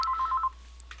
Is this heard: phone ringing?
yes